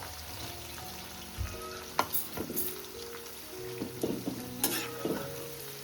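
Sliced onions frying toward golden brown in a pan for prawn dum biryani, with a steady sizzle under repeated scraping stirs of a spoon.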